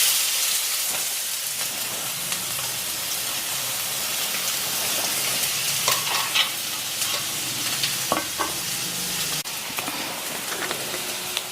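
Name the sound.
chopped onions frying in oil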